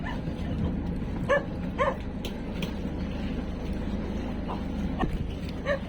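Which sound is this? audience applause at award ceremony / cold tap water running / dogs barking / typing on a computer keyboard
dogs barking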